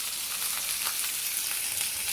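Two steaks sizzle in a hot pan on a stovetop, a loud, dense, continuous hiss of frying fat with small crackles, close and uninterrupted.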